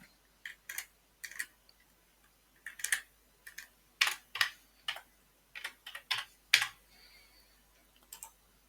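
Typing on a computer keyboard, a series of crisp, close key clicks in short irregular clusters with brief pauses between them, quiet and heard alone.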